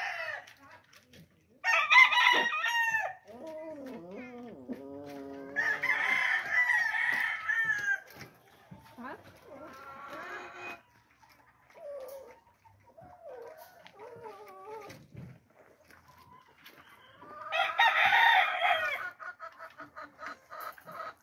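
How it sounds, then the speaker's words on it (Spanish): Chickens cluck and a rooster crows on a ranch, with loud bursts of crowing between stretches of clucking and other fowl calls, plus a dog in the mix and no speech. "Gallinas por los huevos."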